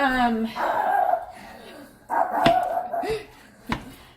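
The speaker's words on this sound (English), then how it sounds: "the dogs wanted to say hello as well, so you can hear them in the background." Dogs bark and yip in short bursts, fairly close, with a few sharp single barks standing out between the louder stretches.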